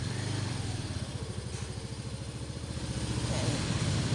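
Engine of a 150cc fully manual ATV carrying two adults, running in reverse with a steady, close, rhythmic low putter and a slight rise in revs near the end.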